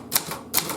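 Keys of a thrifted manual typewriter being struck: two sharp, separate clacks about half a second apart, close by and fairly quiet in an otherwise still room.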